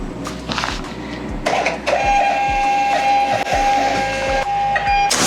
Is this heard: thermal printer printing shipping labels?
yes